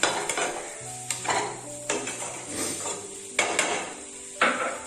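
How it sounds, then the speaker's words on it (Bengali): Capsicum is stir-fried in a pan. Loud, close spatula scrapes and clanks come in an uneven rhythm of about one per second over a steady frying sizzle, and no one speaks. "ক্যাপসিকাম খুব তাড়াতাড়ি ভাজা হয়ে যায়, ক্যাপসিকাম ভাজতে খুব একটা সময় লাগে না"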